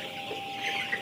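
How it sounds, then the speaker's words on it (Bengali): Chickens clucking inside a poultry farm, a close, continuous murmur of overlapping clucks with a brief sharper call near the end. "ওই দিকে দেখতে পাচ্ছি আমরা যে মুরগিগুলো আছে, সেগুলো পানি খাওয়ার জন্য খুব তৃষ্ণান্ত একটা অবস্থা"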